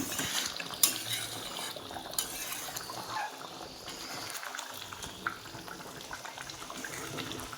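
A lid set over a pot of fish cooking on a home stove gives a sharp metallic clink early on, over a continuous low bubbling simmer with scattered small utensil and pot sounds.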